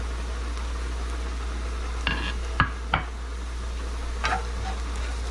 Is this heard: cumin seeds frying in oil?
yes